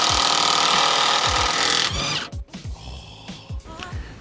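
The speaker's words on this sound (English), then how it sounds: "I'm going to try and rattle gun these massive 17mm bolts" Impact wrench hammering on 17mm engine mount bolts, a loud, dense rattling burst for about two seconds, followed by short repeated bursts and knocking as the gun stops and starts.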